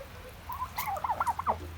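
Turkeys settling into a new place give a short, rapid, warbling gobble that rises out of a quiet, low background hum near the end.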